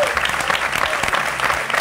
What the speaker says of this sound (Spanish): Un gran aplauso para Osvaldo.